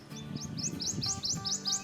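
Prothonotary warbler singing its loud, rapid series of bright, rising tweets, about eight evenly spaced notes, moderately close, with a faint low background hum and no talking.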